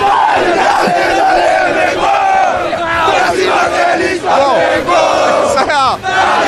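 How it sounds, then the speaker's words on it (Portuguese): Flamengo football fans celebrating in Lima, a loud massed crowd chanting and shouting together, with rising whistles and cries cutting through the steady roar. "Festa da torcida do Flamengo aqui em Lima"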